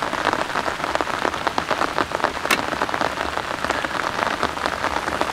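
Steady, dense, heavy rain patters hard on a surface nearby at a cold-weather campsite, a constant loud hiss of drops with no one speaking.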